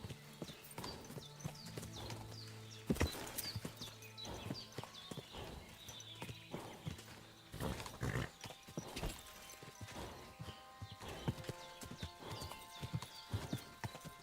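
A horse's hooves clip-clop on the ground in a video game, a brisk rhythmic trot of hoofbeats, fairly near, with a few sharp louder thuds along the way and occasional game sounds.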